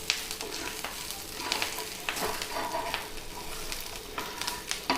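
Finely chopped garlic and a few green chillies frying in a pan, a close, steady sizzle with crackling pops and occasional stirring scrapes.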